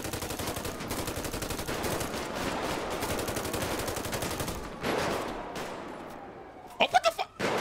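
Automatic gunfire in a GTA roleplay shootout, sustained rapid bursts running for several seconds and then a few sharp louder shots near the end, with faint voices underneath.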